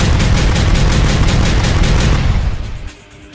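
Rapid shotgun blasts in the Minecraft video game, a dense burst of loud repeated booms for nearly three seconds before cutting off into a quieter tail.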